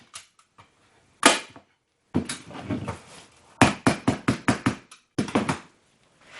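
A staple gun fires sharp, punchy snaps into stretched fabric, single shots at first, then quick bursts of several in a row, close and loud with quiet gaps between.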